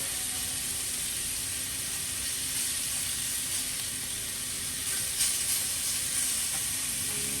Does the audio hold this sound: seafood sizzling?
yes